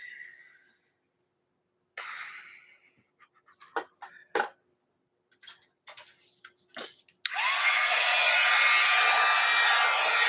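A handheld hair dryer switches on after some scattered coughs and knocks, then blows with a loud, steady whoosh, used to dry wet paint on an art piece.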